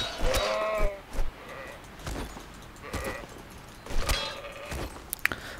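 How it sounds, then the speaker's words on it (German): Sheep bleating in the video game ArcaniA, several short wavering cries in a row over a busy game soundscape with clicks and rustles. "erstes Ziel hier ist Schafe töten"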